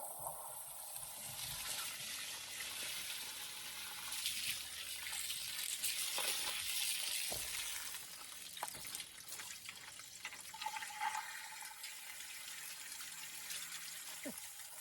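Water splashes and trickles through the carburetor of a Ford 289 V8 being flushed, a faint hissing spray with intermittent dribbles and clunks, while voices murmur quietly in the background.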